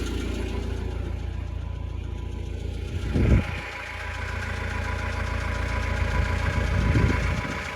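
A Gehl skid steer with a small Kubota engine runs steadily, a continuous mid-pitched diesel drone with a brief louder rev or clunk near the start and another toward the end, heard alone without talk.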